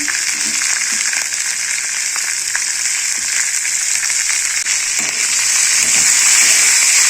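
Ivy gourd sizzles steadily in a pan of oil with curry leaves and onion, a loud, continuous close-up hiss that swells slightly toward the end, with no speech.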